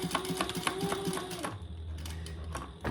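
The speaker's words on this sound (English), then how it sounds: "All right, so I'm gonna stitch that," Sewing machine running steadily while top stitching the open end of a shoulder bag, a close, rhythmic mechanical whir that changes pitch partway through as the stitching speed shifts.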